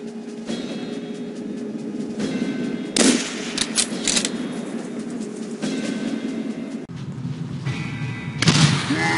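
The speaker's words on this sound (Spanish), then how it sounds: "Seguro que las patrullas han escuchado los disparos" Sharp bursts of gunfire crack out in several volleys over a humming background in the video game Call of Duty: World at War, loud and close, with gaps between the rounds.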